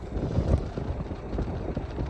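Gusty wind buffets the microphone at the top of a mountain pass reached on a 2024 Honda CB125R motorcycle, a steady low rumble with no voices.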